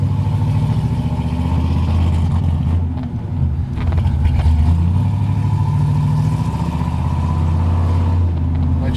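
An LS-swapped 1971 Chevrolet C10 pickup drives down the road, its engine giving a steady, loud low rumble throughout with a brief dip in the middle.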